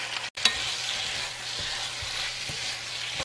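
Pork skin stir-fried in a pan with chopped chilies and green onion crackles with a loud, continuous sizzle. Spatula scrapes and a brief clunk near the start punctuate the stirring, and no one speaks.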